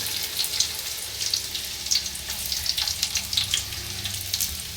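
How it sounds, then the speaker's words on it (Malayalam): Ginger, green chili and garlic fry in melted homemade ghee with a steady close sizzle and crackle, with small spits and pops rising and falling, and no talking. "ഇനി അതിനകത്തോട്ട് ഞാൻ ഇഞ്ചി, പച്ചമുളകും വെളുത്തുള്ളിയും കൂടി ഇടുക."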